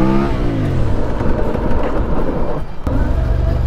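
A CF Moto 450 MT adventure motorcycle with a 450cc engine, heard while riding: a loud, steady engine drone with rising and falling pitch sweeps, mixed with strong wind rumble throughout.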